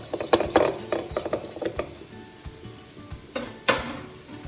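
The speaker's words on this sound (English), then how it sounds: "So I'm gonna whisk this together." Olive oil, lemon juice and honey dressing being whisked in a bowl, a quick run of light metallic taps and clinks close by, bunching early then thinning out, with a couple of sharper knocks near the end.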